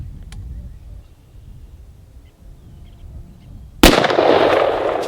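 After a few quiet seconds of faint outdoor background, a rifle fitted with an EOTech EXPS2 holographic sight fires a single loud, sharp shot at a watermelon, and a noisy wash of sound lingers afterward.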